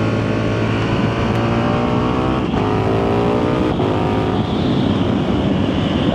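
Motorcycle engine revving loudly while riding on the road, a close continuous growl with rising and falling pitch as the throttle changes, briefly dipping twice before pulling on.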